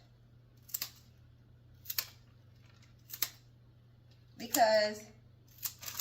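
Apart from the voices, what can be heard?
scissors cutting rose stems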